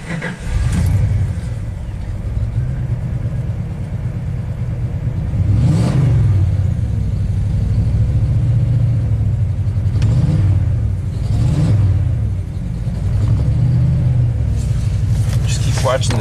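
A rebuilt Ford big block V8 with freshly cleaned spark plugs revs in several rising and falling bursts over a deep, steady idle rumble, close and loud, while people talk over it.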